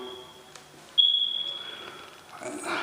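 A smoke alarm in a front bedroom of a repaired house sounds a thin, high electronic tone that lasts about two seconds before cutting off. It is fairly quiet against the room's background noise.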